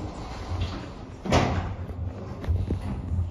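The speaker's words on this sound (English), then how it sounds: "Doors closing." Sliding doors of a hydraulic elevator in a shop in London close with one soft, fairly close thump over a low steady hum, with faint rattles before and after.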